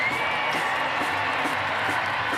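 A large crowd cheers and roars continuously at a Paralympic para canoe heat in Paris, a dense, sustained wash of noise with no break.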